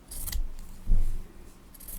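Scissors snip through quilt lining fabric in a few close, soft crunching cuts with light rubbing of cloth between them, alone and fairly quiet.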